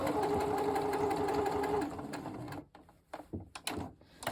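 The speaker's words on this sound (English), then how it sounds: "And this is straight line stitching" A sewing machine stitches a quilt binding with a steady, fast mechanical hum for about two seconds, then slows and stops, leaving scattered handling clicks and rustles of fabric close by.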